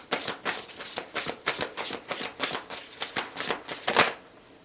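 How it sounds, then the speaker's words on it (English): Tarot cards riffled and shuffled in a quick run of about a dozen crisp, close bursts, then a card pulled as the sound trails off, with no talking. "I'm gonna pull one or two more cards."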